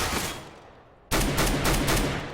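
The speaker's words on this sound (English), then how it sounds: "now it's going to be Hazed with the auto sniper" Auto sniper rifle fire in Counter-Strike: Global Offensive on the Mirage map: after a quieter stretch, a rapid string of loud, sharp gunshots cracks out in close succession.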